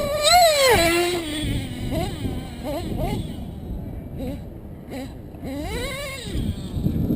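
A modified small engine running rich revs up and down in rising and falling sweeps, loud and close, with a brief mellow drone between bursts.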